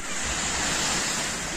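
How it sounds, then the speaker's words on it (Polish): Seaside surf rushes in a steady, loud wash with wind buffeting the microphone, a short continuous roar close by with no talk. "Nad morzem."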